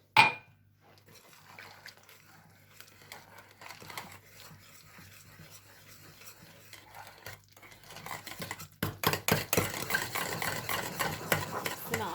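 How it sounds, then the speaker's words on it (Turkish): Milk is whisked into mashed potatoes in a bowl, starting with soft wet stirring and building into a faster, louder rhythmic whisking and scraping near the end, close up with no talking. "Sütü de güzelce karıştırıp çırpıp hemen borcamıma tepsimi alacağım."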